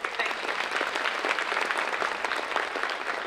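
Enthusiastic crowd applause at the Phenix City mayor's ball, a loud, dense and steady clatter of many hands clapping throughout the short stretch without a pause.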